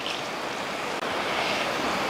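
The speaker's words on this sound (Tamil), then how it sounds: "அடுத்து தண்ணி." Water pours in a continuous, even rush into a pan of egg curry (muttai kuzhambu) containing ground coconut, loud and close for about two seconds with only a tiny break midway.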